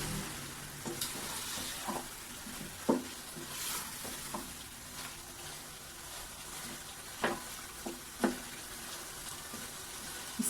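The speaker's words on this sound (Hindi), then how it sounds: "अब हम साथ साथ हिलाते जाएं, चम्मच हिलाते जाएं" Spoon stirring white chicken korma in a frying pan, a soft steady sizzle punctuated by intermittent scrapes and knocks of the spoon against the pan, close and quiet.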